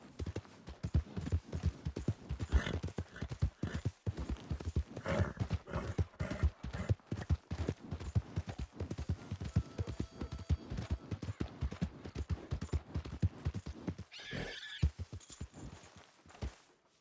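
A horse in Red Dead Redemption 2 gallops with rapid, rhythmic hoofbeats, close and prominent, pounding steadily until a brief breathy snort near the end.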